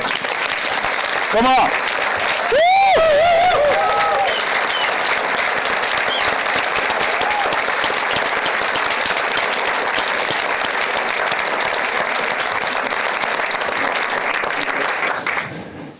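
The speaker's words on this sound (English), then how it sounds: "So big applause once more." Sustained audience applause at a makeathon final pitch event on Smart Green Island, loud and steady for most of its length with a brief whoop and some voices cheering early on, fading out at the very end.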